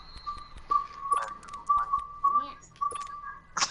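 A thin, steady whistling tone runs through the room, broken by short voices and scattered clicks and knocks.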